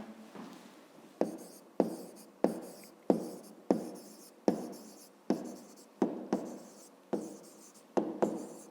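A pen writes a maths answer on paper in a series of about a dozen sharp scratchy strokes, each starting with a crisp attack and fading, close and clear with no talk.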